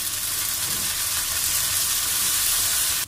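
Tomatoes and small onions sauté in a pan for Chettinad okra pachadi, a steady, close sizzle and hiss of frying running evenly throughout with no talking.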